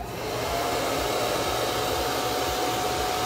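A handheld dryer blows a constant, close whoosh over a chalk transfer craft piece, its even airflow roaring steadily after a quick start-up, with no one speaking.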